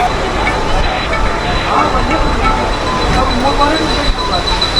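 A Mumbai suburban train rolls along with a loud, steady roar and clatter of wheels on the rails, heard from on board amid rushing wind.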